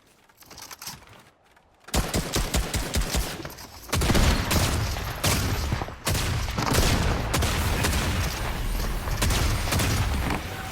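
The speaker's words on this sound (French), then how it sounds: "Il faut tirer, attendre un peu, changer d'arme." Gunfire in the video game Fortnite, with rapid bursts of shots that begin after a quiet stretch and continue as dense, repeated volleys, loud and close, with the shots merging into sustained fire.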